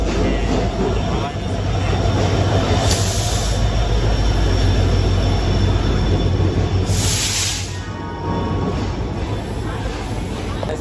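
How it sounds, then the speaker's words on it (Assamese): A train rumbles steadily into a station up close, wheels squealing in high bursts over the heavy rolling noise. "ফাইনেলি আমাৰ ট্ৰেইনটো আহিল ইমান টাইম 2 ঘণ্টা ৱেইটিং কৰাৰ পিছত চাওক ট্ৰেইন আহি আছে"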